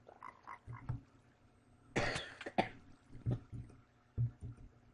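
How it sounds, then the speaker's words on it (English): A person coughing indoors: soft throat sounds, then a harsh burst of two coughs in the middle, followed by quieter scattered throaty noises. "I might have a coughing fit here"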